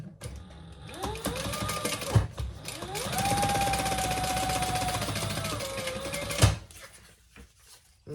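Domestic sewing machine running a top stitch along a bag seam in two steady bursts, a short run then a longer sustained one, close and fairly loud with motor whine and needle clatter, no talking.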